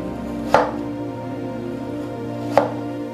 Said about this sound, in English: we'll turn the onion like this and we need to slice them like horizontally